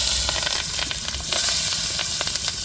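Mustard seeds, curry leaves and onion frying in hot oil in a kadai on the stove, a loud, close, dense sizzle peppered with sharp crackles and pops throughout, no speech.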